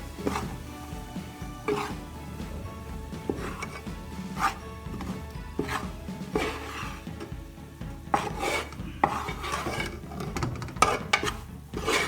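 Wheat flour roasts in ghee in a pot, with a spoon stirring and scraping against the metal in repeated strokes under a soft sizzle. It is close and moderately loud, with no talking.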